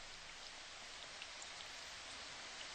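Steady pouring rain, a dense, even hiss of many drops falling without pause at a constant level, with no voices.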